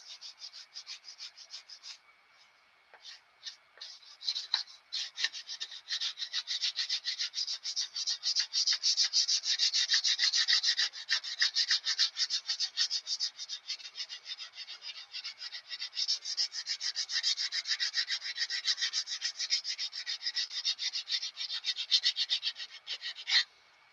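Sandpaper wrapped on a dowel rubs over carved wood in quick, steady back-and-forth strokes. The raspy scratching sounds close and continues for the whole stretch with only short pauses.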